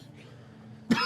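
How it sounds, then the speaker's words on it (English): A man abruptly coughs and sputters as if spitting up water, a single harsh burst at the end following quiet background. "begins coughing and spitting water up"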